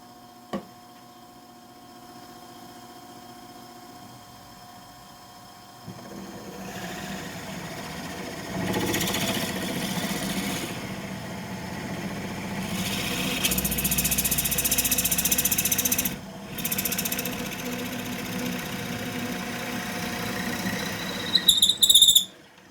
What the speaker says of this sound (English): I've got a little sander there which I can poke in the hole and just clean it up inside.